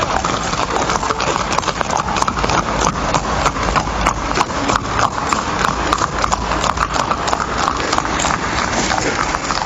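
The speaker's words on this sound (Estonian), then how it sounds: "kaadrid on filmitud täna öösel Tallinnas inimeste poolt, kes tänavatel ringi jooksnud hobuseid kohtasid" Loose horses, let out of racetrack stables, gallop through Tallinn's city streets at night, their hooves clattering in a rapid, continuous clip-clop on pavement, loud and close.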